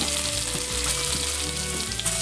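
Dried red chilies, mustard seeds and cumin fry in hot oil as a tempering for carrot mango pulihora. Makes a loud, continuous close-up sizzle that holds steady throughout, with no voices.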